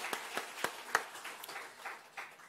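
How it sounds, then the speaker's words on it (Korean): A church congregation claps in welcome for newly registered members, scattered and fairly faint hand claps with uneven, sparse rhythm. "박수 한번 쳐주면 좋을 것 같아요"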